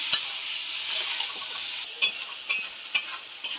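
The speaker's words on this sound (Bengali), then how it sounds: "মাছের ঝোল যেহেতু হবে মশলাটাকে এবার দিয়ে কষবো" Garlic and ground spice paste frying for a Bengali fish curry, a bright continuous sizzle punctuated by four or five sharp spatula taps against the pan toward the end, close up and without speech.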